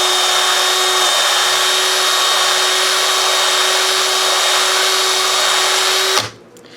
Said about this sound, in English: So I'm just going to get the drill.